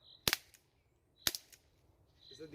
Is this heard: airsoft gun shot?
yes